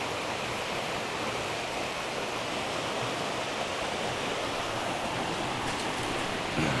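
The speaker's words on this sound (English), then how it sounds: "Crazy power of water." Murky river water rushes steadily and loudly close by during a winter fishing trip, a dense unbroken roar with no talk.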